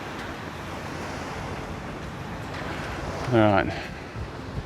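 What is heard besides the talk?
wind blowing on the island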